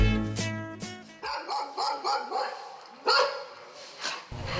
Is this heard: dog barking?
yes